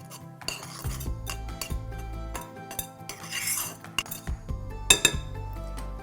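Utensils clink and scrape against a bowl while monk fruit sweetener and cinnamon are stirred together, a busy run of close, bright metallic taps and knocks with no talking.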